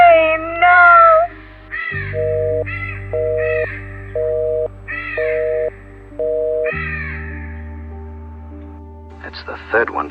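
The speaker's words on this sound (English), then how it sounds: "crows are flying through glass windows of residents and attacking people now" Crows caw harshly in an audio drama, a run of repeated loud calls in pulses over droning, eerie background tones, ending with a burst of noisy commotion.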